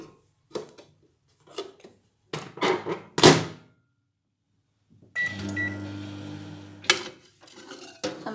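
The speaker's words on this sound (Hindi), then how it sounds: "अब इसे हम फिर से 1 मिनट के लिए माइक्रोवेव करेंगे।" Masala peanuts in a microwave oven: scattered clunks and handling knocks, a door thunk, then the oven starts with a steady buzzing hum and a sharp click partway through, close by; no talking.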